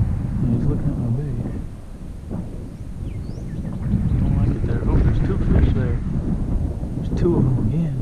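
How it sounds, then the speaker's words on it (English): Loud wind buffeting an outdoor microphone while fishing at an urban lake bed in San Antonio, a continuous low roaring rumble that swells and eases throughout, with a voice talking underneath. "God, this wind is killing me right now."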